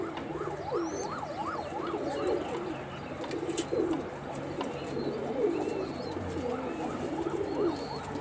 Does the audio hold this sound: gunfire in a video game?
no